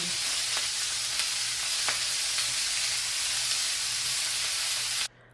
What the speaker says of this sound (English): we are sauteing up some peppers and onions